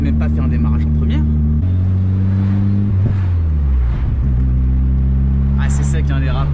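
A 300-horsepower Corrado Turbo pulling away in first gear, its engine humming loudly then dropping and rising as the clutch engages, with a brief whine near the end.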